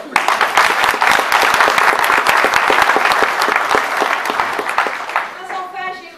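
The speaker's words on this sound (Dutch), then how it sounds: "Mag ik een daverend applaus alsjeblieft?" Loud, dense applause from a theatre audience at an amateur cabaret comedy stage play, steady for several seconds, then thinning out near the end as a few scattered claps linger.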